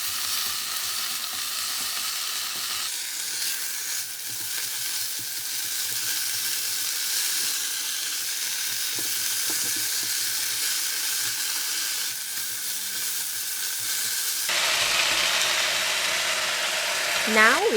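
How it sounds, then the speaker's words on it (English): Water spinach stir-frying in hot oil in a pan, a loud continuous sizzle with the scrape and toss of turning the greens, growing brighter and harsher near the end. "Once the water spinach is in the pan, it cooks really fast. And we need to turn it to make sure all the water spinach cook evenly."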